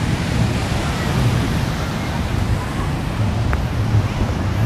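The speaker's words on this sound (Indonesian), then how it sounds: "bisa menikmati debur ombak Pantai Ketawang" Ocean waves surge and wash steadily onto the shore at Ketawang Beach during an afternoon kite festival, a loud continuous roar of surf with some wind buffeting the microphone.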